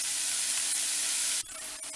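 Capsicum sautéing in a hot pan gives a loud, even hiss of sizzling that cuts off abruptly, leaving a quieter, fainter crackle for the last half second.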